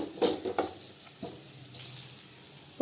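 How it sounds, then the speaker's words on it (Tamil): Ground paste for rasam sautéing in oil in a pan, a soft steady sizzle with a few sharp stirring clinks near the start and a brief scrape at the end, close and alone. "நல்லா எண்ணெயில் கொஞ்சம் வதக்கி விட்டுக்கலாம்"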